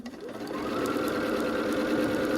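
A sewing machine stitching quilt pieces spins up quickly and then runs at a fast, steady whirring rhythm, close and fairly loud.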